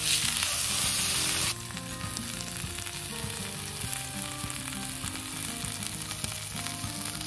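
Beef sizzling in a cast iron cooker over charcoal outdoors, a steady loud frying hiss throughout with no talking, starting with a brighter burst of spitting.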